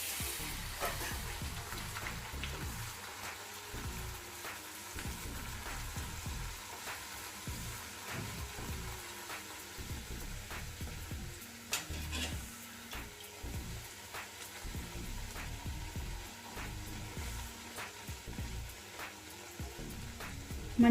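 Rice puri, chegodilu, fries in oil over a medium flame, giving a quiet, steady bubbling sizzle with small pops and crackles throughout.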